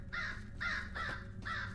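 Crows caw in the video game Ghostlore, four harsh, evenly spaced calls in quick succession, fairly loud and close, over a low steady background hum.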